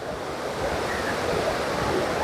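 Water pours over the Shetrunji dam and throws spray into the air, making a broad, steady roar of rushing water that stays loud and close throughout, with no voices over it.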